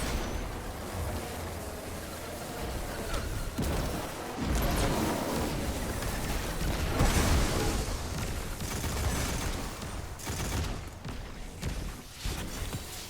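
Handgun fire in the video game Destiny 2, a dense, continuous spread of gunfire and blasts that rises and falls over about thirteen seconds with no clear pauses.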